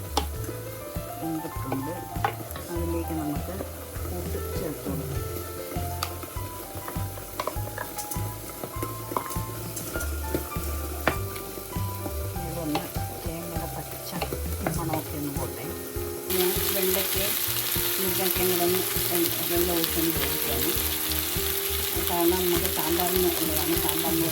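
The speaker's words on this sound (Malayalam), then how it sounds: "അതിലേക്ക് ഞാൻ കുറച്ച് തേങ്ങ ഇട്ട് വെച്ചിട്ടുണ്ട് ചെറുതായിട്ട് വറുക്കാം" Grated coconut with mustard seeds fries in hot oil with a continuous crackling sizzle and intermittent stirring clatter, close and fairly loud, growing denser and louder toward the end.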